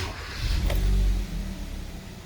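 A car with a months-long intermittent fault cranked and started in a repair shop, a short loud rumble that swells, holds for about a second, then settles into a quieter idle.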